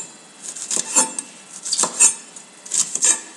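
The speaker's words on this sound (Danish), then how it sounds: "Den skal jeg bare skære i små" A knife chops food into small pieces on a board: light, irregular clicks and taps in short clusters with a faint metallic ring, close and moderate, with no talking.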